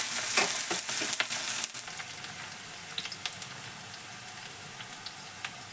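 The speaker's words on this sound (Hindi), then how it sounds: "अब ये मैं इसमें नेनुआ डालने जा रही हूँ।" Onions sizzle and crackle in hot oil as sponge gourd (nenua) is added, a loud burst of frying that settles into a steady, quieter sizzle with scattered pops.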